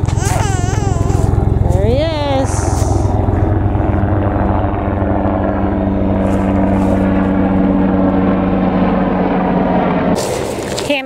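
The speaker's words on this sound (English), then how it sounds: "I hear a helicopter." A helicopter passes overhead near a park in Mystic, Connecticut, its engine and rotor a steady, loud drone that fills the whole stretch, with some voices in the mix.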